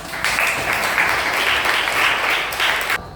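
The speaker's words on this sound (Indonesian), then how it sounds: "Kita berikan dulu tepuk tangan" A classroom group applauds together, a loud, dense burst of clapping that starts abruptly, holds steady for about three seconds, briefly swells again near the end, then stops sharply.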